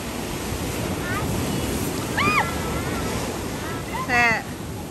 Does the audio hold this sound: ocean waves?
yes